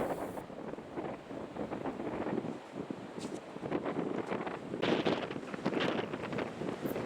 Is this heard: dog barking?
no